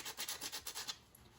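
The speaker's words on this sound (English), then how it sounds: "And I just start sanding on it" Hand sanding on a part for a 1/4 scale John Deere 4020 model tractor: about eight quick, even back-and-forth rubbing strokes, faint and close, then stopping into quiet room tone.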